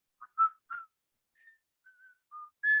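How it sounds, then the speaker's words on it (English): A person whistles a theme song tune in short sustained notes, several separate phrases with brief pauses, clear and alone with no talk. "Do you know how to whistle it?"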